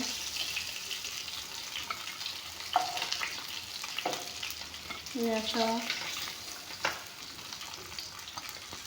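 Fish fry crisply in a pan with a steady background sizzle, punctuated by a few sharp utensil knocks and a brief clinking rattle midway, with a faint voice at one point.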